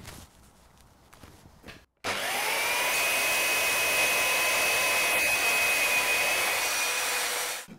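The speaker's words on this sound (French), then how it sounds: "petite découpe à la scie circulaire" A circular saw cuts through melamine board: after a few seconds of quiet handling noise, the blade spins up into a loud, steady, high-pitched whine that holds for about five seconds before cutting off.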